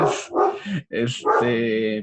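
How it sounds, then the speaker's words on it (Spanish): A small dog barks and yips several times in a row, close and loud, mixed with whimpering tones during an online math class. "se activó el perrito"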